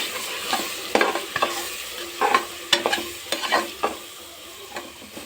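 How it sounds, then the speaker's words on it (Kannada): Masala being stirred into frying egg biryani, with sharp scraping spoon strokes against the pan at an irregular rhythm over a steady oil sizzle, close and fairly loud, with no voices. "ಮಸಾಲ ಹಾಕಿ ಚೆನ್ನಾಗಿ ಕಲಿಸ್ಕೊಡ್ಬೇಕು."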